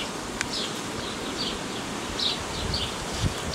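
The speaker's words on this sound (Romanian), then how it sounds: "Deci aici avem un roi care, bineînțeles, nu o să roiască" A honeybee swarm colony buzzes steadily in the background, with individual bees flying close by and fading, over a soft outdoor hiss.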